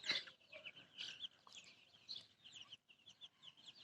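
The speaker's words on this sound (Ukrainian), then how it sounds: "Мама їх кличе і вони біжуть за нею." Hen on a village smallholding calling her chicks, a few soft clucks with faint peeping chick chirps, fairly distant and continuous.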